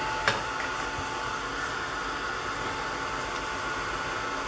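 A hair dryer blows a steady, loud, broadband whoosh over wet watercolor paint, holding the same airy hiss throughout after a brief tap near the start.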